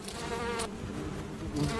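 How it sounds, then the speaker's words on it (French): A steady insect wing buzz drones close up as a female moth in a beehive beats her wings, with harmonic whine rising and falling in brief surges, no voices present. "cette femelle fait vrombir ses ailes pour chasser les abeilles"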